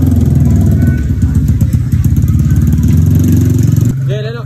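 Loud, close motorcycle engine running steadily with a continuous rumbling drone and a slight throttle change near the end, at an outdoor gathering among classmates.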